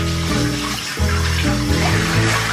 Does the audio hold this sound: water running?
yes